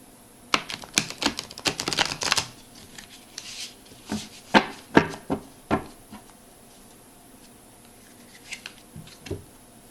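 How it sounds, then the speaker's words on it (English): A quick flurry of crisp paper riffles and snaps, followed by scattered sharper flicks and taps, close up with no talking. "I'm going to shuffle the cards 3 times."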